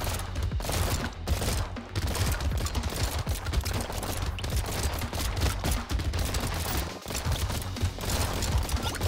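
Guns in the video game Brotato fire nonstop at swarms of monsters, a dense, rapid stream of overlapping shots and impacts that stays loud and busy throughout.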